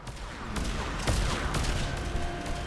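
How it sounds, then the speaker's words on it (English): Rockets and gunfire pound the player during a Thessia firefight in Mass Effect 3, a dense continuous barrage of blasts with sharper explosive hits standing out over a constant battle roar. "I'm getting shot by a bunch of rockets right now"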